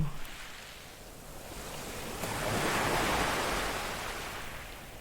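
Calm sea waves wash gently in soft, distant surges, one broad swell building and fading slowly, quiet and alone with no voices.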